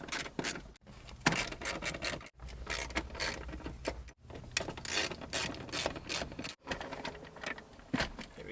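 A ratchet loosens 12mm bolts on an RSX DC5 car shifter, giving bursts of close, clicking pawl rattles separated by short pauses, repeated across several strokes with no talk.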